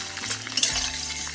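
Garlic, ginger and green chillies sizzle in oil for a dal dish, a soft steady frying hiss with a few light stirring scrapes, close by.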